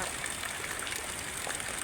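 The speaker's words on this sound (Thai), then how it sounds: "สายฝนโปรยปลายลงมาเย็นชื่นฉ่ำนะคะ" Steady rain falls on a dark evening, a dense, even hiss of drops and running water with no breaks, fairly close and moderately loud, with no voices.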